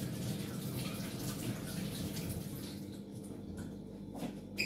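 Tap water runs steadily and fairly loudly into a pot being filled for boiling eggs in a kitchen, a continuous hissing splash that thins slightly toward the end.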